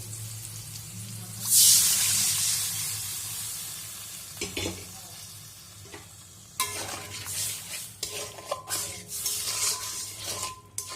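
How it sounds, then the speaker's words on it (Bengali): Boiled dal poured into mangoes frying in a pan, a brief loud pouring hiss followed by steady sizzling with scattered stirring clinks and scrapes, no talk. "আমগুলো গলে গেছে, সেদ্ধ করা ডালটা দিয়ে দেব।"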